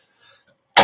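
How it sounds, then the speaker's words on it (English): A man's harsh, loud cough bursts out alone at the very end, after a stretch of faint background noise, during a coughing fit brought on by heavy smoking. "Having a coughing fit."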